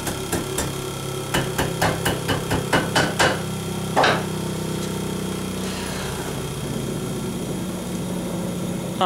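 A hammer rings against hot steel while a knife is forged, about a dozen quick, evenly spaced metallic strikes up close, then the blows stop and a steady low machine hum carries on alone.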